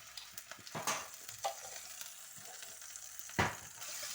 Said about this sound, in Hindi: ये लहसुन अदरक की पेस्ट डाल के मैं इसको भून लूँ थोड़ा सा